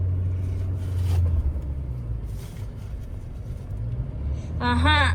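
Car engine droning steadily at low pitch while the driver works through the gears, the rumble swelling and easing with each change; a voice talks briefly near the end.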